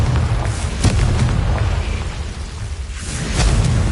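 Fiery Confringo spell blasts in Hogwarts Legacy, a rolling series of loud, heavy booms and bursts that swell and fade over a dense rumbling bed, with a stronger detonation near the start and another swelling toward the end.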